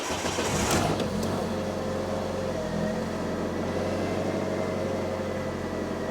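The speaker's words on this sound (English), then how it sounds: "Let's start the engine." A salvaged Fiat 500 engine fires up with a sharp burst, then settles into a steady, close idle hum that continues unbroken for several seconds.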